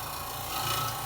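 A hand scraper rasps across a metal surface that has not been straightened, a short, close, gritty scraping stroke that stays steady and continuous.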